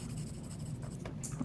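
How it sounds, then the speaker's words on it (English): Charcoal pencil shading with light pressure on textured paper, a soft continuous scratchy rasp close up, steady throughout the short stretch with no voice. "So I'm easing up on the pressure of my pencil."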